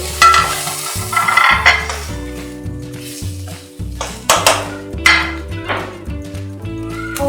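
Cabbage, bell pepper and onion are stir-fried in a pan, with a spatula scraping and clanking loudly against the metal over a steady, close sizzle.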